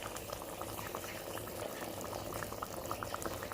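A pot of sauce for tuna pasta simmers steadily on the stove, a dense, continuous bubbling and gentle popping held at an even level throughout.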